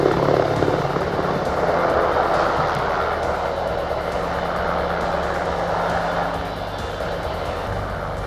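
A firefighting rescue helicopter hovers during a 2023 disaster-response safety drill in Hapcheon County, its steady, loud rotor and engine roar filling the air throughout without a break.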